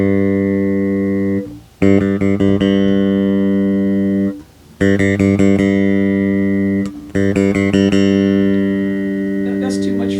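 An ESP E-II GB-5 Japanese-model bass guitar with one EQ band raised from flat, playing bright sustained notes and plucked runs in three phrases separated by short pauses.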